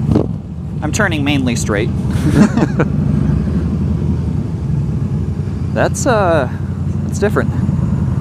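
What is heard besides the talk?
cruiser motorcycle engine riding on road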